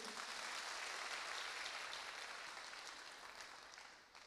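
Steady crowd applause, dense and even, fading slightly toward the end; no voices over it.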